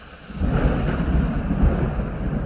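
A thunderstorm in an action sci-fi movie, with a deep rolling rumble of thunder swelling up over steady rain and continuing as a loud, sustained low roar.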